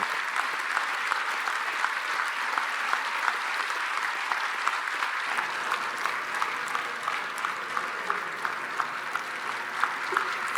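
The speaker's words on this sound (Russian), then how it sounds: "вот все команды очень долго аплодировали" Long sustained applause from a hall audience for a KVN comedy team from St. Petersburg at a meeting in Ufa, dense and steady clapping throughout with no speech.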